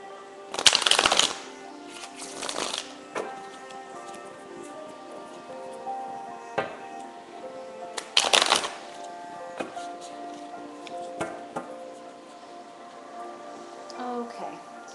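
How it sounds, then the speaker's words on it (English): Tarot cards being shuffled in a few brisk riffling bursts, with quieter handling and soft taps between them, close and clear. "let's shuffle the cards."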